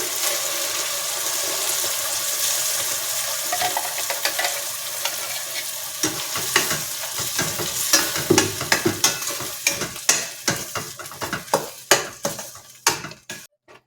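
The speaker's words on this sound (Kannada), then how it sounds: "ರುಬ್ಕೊಂಡಿರೋ ಪಾಲಕ್ಕು ಮತ್ತು ಮಸಾಲೆನ ಇದಕ್ಕೆ ಹಾಕ್ಕೊಳ್ಳೋಣ" Thick ground spinach and spice paste sizzling and bubbling in a pan, steady frying hiss at first, then a run of sharp spoon scrapes and stirring clatters, no talk.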